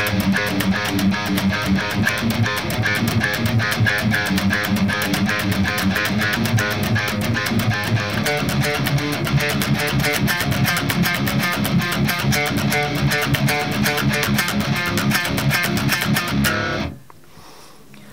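A guitar plays an intro riff in a steady loop, full and prominent with accompanying instruments, continuing without talk before cutting off abruptly near the end.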